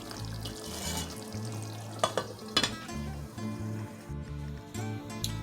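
Carne con papas, beef and potatoes, simmers in a pot with soft, low bubbling and a quiet sizzle, broken by a few sharp clinks of a utensil against the pot.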